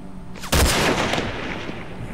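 A loud burst of gunfire erupts in the video game Hunted, a sharp blast followed by a sustained rattling roar of shots and echoing reverberation that tails off, with no one speaking.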